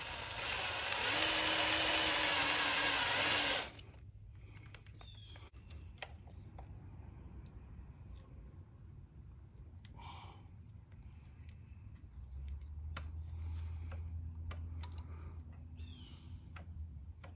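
A power drill drives a sheet metal screw into a dirt bike countershaft seal, whirring loudly for a few seconds and then stopping, followed by quiet workshop sounds and scattered clicks.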